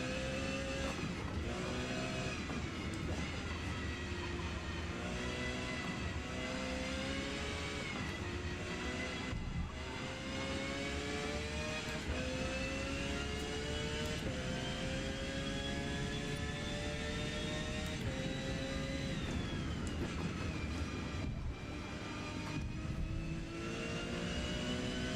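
Race car engine in Forza Motorsport, revving loud and continuous, its pitch climbing steeply through gear after gear with short drops at each shift, alone throughout.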